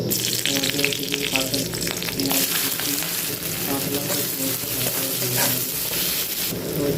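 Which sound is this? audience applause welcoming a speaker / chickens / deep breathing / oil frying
oil frying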